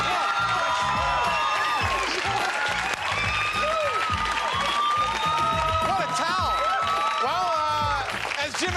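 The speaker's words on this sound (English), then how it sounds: "Give him a big applause." Studio audience applauding loudly and steadily throughout on a dating game show, with whoops and cheers over music, the clapping dense and sustained.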